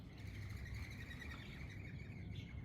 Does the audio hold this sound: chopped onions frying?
no